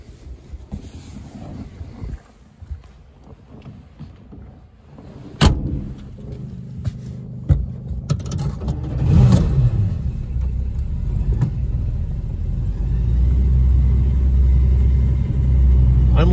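A supercharged 1941 Graham Model 113 Hollywood car starts moving and drives off, its engine rumble building from low idle to a steady, louder drone with wind buffeting the microphone and a few knocks and clunks.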